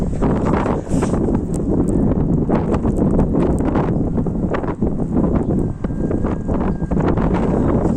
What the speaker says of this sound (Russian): все буквально визжит, свистит. Это ураган.